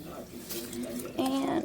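Tap water runs into a pot of rice for homemade dog food, a steady splashing stream that grows louder toward the end, with a voice talking briefly over it.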